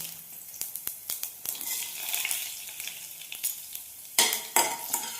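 Urad dal and dried chillies frying in oil after mustard seeds pop, for oats upma, a soft sizzle with light crackling and spoon taps, then a few louder stirring scrapes near the end.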